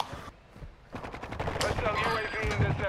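Gunfire in the Call of Duty Warzone 2 video game, with a rapid burst of shots after a short pause, under and alongside the voices of players talking.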